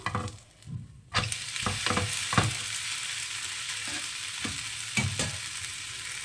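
A ragi rice upma dish sizzles and fries steadily in a pan, with a few distinct scraping and flipping clatters as it is turned over; no talking.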